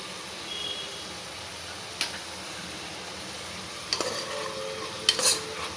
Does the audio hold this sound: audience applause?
no